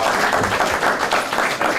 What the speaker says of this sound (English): Can we give a round of applause to Alina and her staff?